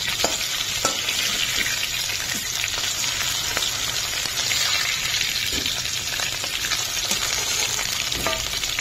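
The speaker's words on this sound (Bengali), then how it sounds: "তো আলুটাকে কেটে নিয়েছি এরকম করে, এটাকে ভালো করে করে নেবো ভাজা" Cut potatoes fry in a pan for a Bengali vegetable dish, giving a continuous loud sizzle with occasional stirring scrapes and bubbling throughout, close and without talk.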